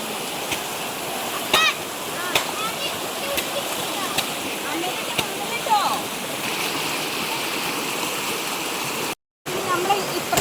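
A forest stream runs as a steady, close rushing wash of water, with a few brief splashes and bird-like chirps over it and a short dropout near the end.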